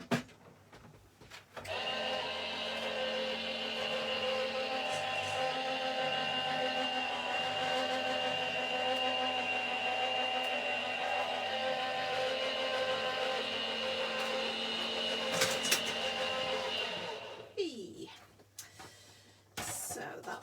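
A Gemini die cutting machine runs a sheet of card through, giving a steady mechanical whirring hum for most of the stretch before it winds down, with a few small clicks near the end.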